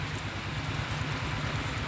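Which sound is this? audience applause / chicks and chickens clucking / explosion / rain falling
rain falling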